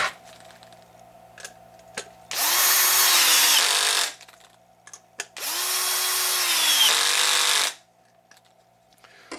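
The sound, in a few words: power drill tightening screws on HPI Baja SS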